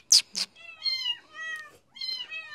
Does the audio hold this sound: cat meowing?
yes